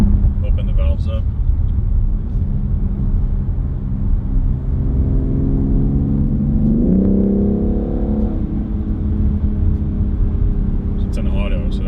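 BMW X3M/X4M engine with exhaust valves open, a deep steady rumble that rises in pitch around the middle as revs climb, then settles, heard from inside the car at fairly loud level.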